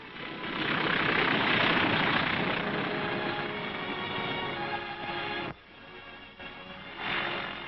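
A loud, droning World War II aircraft engine roars steadily, briefly drops off, then swells again as the plane comes in to land on a new airfield at Tarawa.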